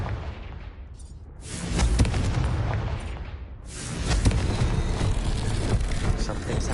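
In Hogwarts Legacy, the Confringo fire spell sets off deep, rumbling explosive blasts that swell twice into sustained roaring booms, loud and filling the space.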